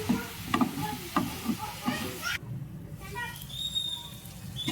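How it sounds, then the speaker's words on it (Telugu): Ginger garlic paste and tomato cooking in a pan, with a soft sizzle and intermittent stirring scrapes under a person talking nearby. "అల్లం వెల్లుల్లి పేస్ట్, టమాటా ఉడికేంత వరకు ఉడికించుకోవాలి."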